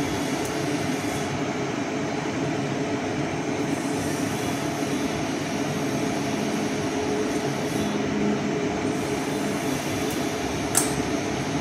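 Hilsa fish pieces frying in a pan, with a steady, dense sizzling hiss that holds level throughout and a faint tick near the end.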